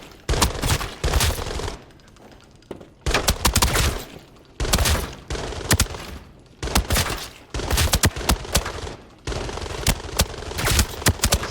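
In Arena Breakout, a budget MDR assault rifle loaded with T5 rounds fires in loud, close bursts of sharp automatic shots, with brief pauses between volleys that repeat steadily.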